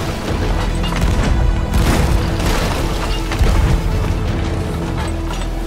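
Cannon shots slam into a small wooden sloop during a pirate ship battle in a video game, a dense run of booming, crashing impacts layered over churning water and ambient noise.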